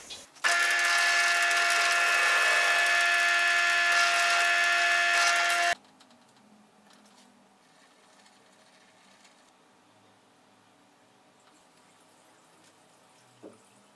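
A wooden spinning top turns on a wood lathe while being sanded, giving a loud, steady whirring hum for about five seconds before it cuts off to a faint background hiss and one small knock.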